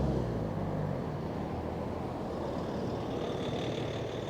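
Street traffic with heavy trucks rumbling past, a steady loud low roar of engines and tyres close by that swells and shifts as vehicles go through, with no talking.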